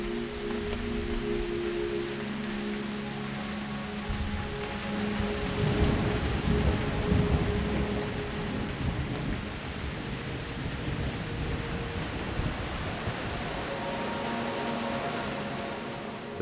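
Steady summer rain pours down in the Ethiopian highlands, with low thunder rumbling and swelling through the middle, dense hiss of rain on surfaces throughout, no voices.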